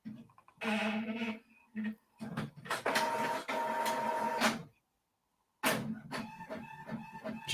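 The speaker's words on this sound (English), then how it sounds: "Can you hear my printer in the background?" An inkjet-style printer whirs and clatters through several mechanical passes, starting and stopping with a brief pause before resuming, fairly close and with no voices over it.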